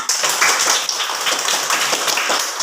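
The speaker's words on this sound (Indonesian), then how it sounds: "Tepuk tangan." Schoolchildren in a classroom clap in quick, slightly ragged bursts, close and loud, continuing evenly with no speech over it.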